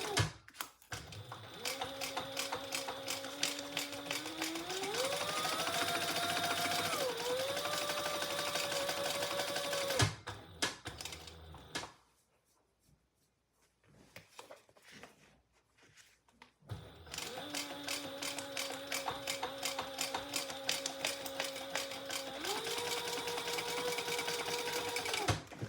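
A sewing machine runs steadily, stitching a shoulder bag seam at the seam allowance. It stops briefly near the middle, then resumes for another long, even run.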